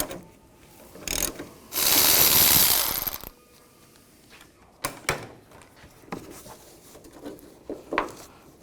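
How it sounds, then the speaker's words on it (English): A ratchet wrench with a 13mm socket backs out the battery hold-down bolt on a 1999-2006 Chevrolet Silverado 1500, giving a long, loud, close burst of rapid clicking followed by several shorter, sharper clicks and clanks. "Using a 13mm socket, take out the battery hold down bolt."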